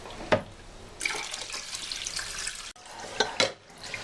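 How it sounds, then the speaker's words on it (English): Short grain rice is being washed by hand in water for sushi, giving a steady wet swishing and sloshing with a couple of sharper splashes and clinks. The sound is fairly quiet and close. "we're going to wash it until the water becomes clear"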